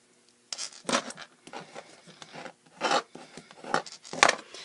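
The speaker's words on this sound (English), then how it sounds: "we'll use our bone folder to give us that crease that we're looking for" A bone folder is rubbed firmly along a fold in cardstock for a gift card holder, giving several close, dry scraping strokes of uneven length with short pauses between them.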